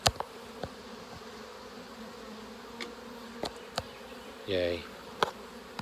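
Bees buzz steadily in the background while a beekeeper herds them at a hive, with scattered clicks and handling knocks, a short louder buzz passing close by, and a brief spoken exclamation.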